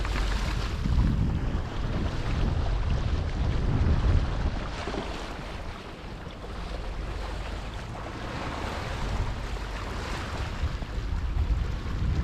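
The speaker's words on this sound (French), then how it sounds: "Là on est archi cool, mon bateau" Sailboat moving well at about 9 knots in 8 knots of wind, with a steady wash of water and waves against the hull and wind buffeting the microphone, continuous and close, no talking.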